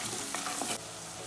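Mushrooms stirred with salt in a frying pan, a soft steady sizzle with a few scraping stir strokes, close and alone, dropping slightly quieter partway through.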